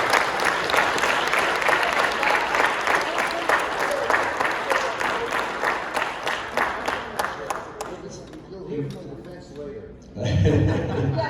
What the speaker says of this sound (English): So, Gary, round of applause and thank you for all you've done.